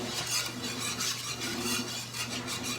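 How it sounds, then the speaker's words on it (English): A whisk scraping and stirring gravy in a pan, quick repeated metallic strokes in a steady rhythm, close and fairly loud with no talking. "Keep whisking and stirring"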